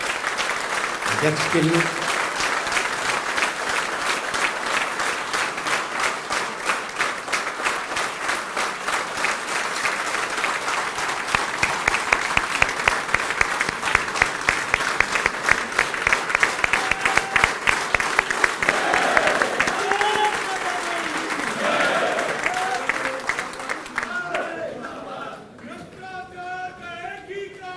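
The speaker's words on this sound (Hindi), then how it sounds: "एक ऐसी ताली बजनी चाहिए हमारे राष्ट्रीय" A large crowd applauds the national president at a political gathering in Punjab, with dense, loud clapping sustained for over twenty seconds, some cheering mixed in, fading near the end as a voice speaks.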